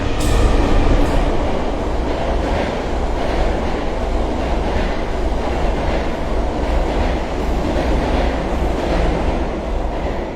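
A train rolls past close by, a loud continuous rumble with rhythmic wheel clatter and rail noise holding steady the whole time, with no voices over it.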